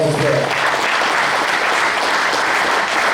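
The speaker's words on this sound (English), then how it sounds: "Let's give them a round of applause as well." An audience at a touchdown club meeting gives a steady round of applause, a dense, even wash of many hands clapping throughout, with no talk rising above it.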